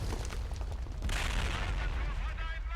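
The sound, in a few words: mortar fire and explosions in Blitzkrieg mod video game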